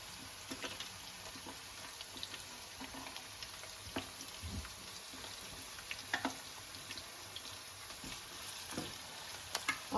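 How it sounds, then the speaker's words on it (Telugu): Chopped onions fry in hot oil while being cooked for a drumstick tomato curry, giving a steady, fairly quiet sizzle with occasional small pops and stirring scrapes. "ఆయిల్ వేడి అయినాక ఉల్లిగడ్డలు వేసుకుందాం"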